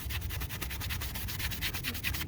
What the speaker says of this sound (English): take your Scotch-Brite pad or high grit sandpaper and scuff up the surfaces